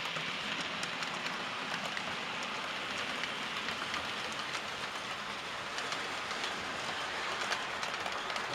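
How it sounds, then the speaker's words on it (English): A model railway minerals train runs along the track of a loft layout, giving a steady, continuous rolling rumble with faint clicking over the rails at moderate distance, with no speech over it. "And the minerals train is running as well."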